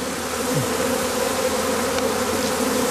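Honeybees hum steadily inside a straw skep, a dense continuous buzz of the whole swarm that stays close and even throughout, with occasional single bees droning past nearby.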